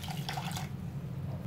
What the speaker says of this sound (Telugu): వేసుకొని ఇదే కప్పు తో ఒక కప్పు వాటర్ ని వేసుకుందాము